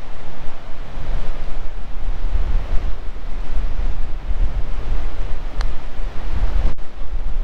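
Strong wind buffets the microphone out on a golf course, a constant loud low rumble with no speech.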